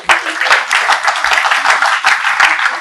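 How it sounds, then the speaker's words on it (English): A conference audience claps for the organization, a loud close run of many hands with the individual claps audible inside the steady applause. "A big round of applause for the entire organization."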